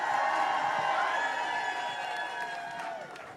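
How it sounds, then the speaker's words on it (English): A crowd at a political town hall applauds and cheers, a loud, sustained roar that slowly fades over a few seconds. "Give them a big round of applause."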